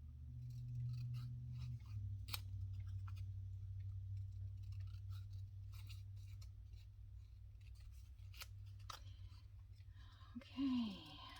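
Scissors cutting out paper pieces for a junk journal, sparse faint snips and ticks over a low steady hum, with a brief louder rustle near the end.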